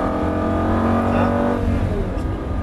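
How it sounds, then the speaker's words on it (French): Car engine in a driving session, revving and dropping through a downshift with a heel-toe throttle blip, loud and steady with people talking over it. "quand on rétrograde, ça freine sec du coup après. Ben, et pourtant ça te fait le talon pointe. C'est le coup de gaz."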